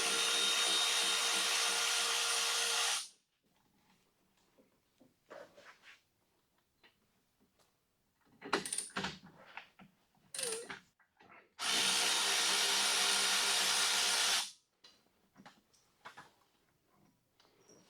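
Two loud bursts of a power tool, likely an impact driver, spinning out 13mm brake caliper bolts on a Jeep Cherokee XJ, each about three seconds long, separated by quiet clinks and handling of metal parts.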